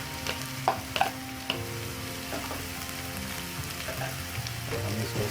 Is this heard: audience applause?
no